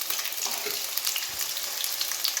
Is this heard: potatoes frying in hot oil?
yes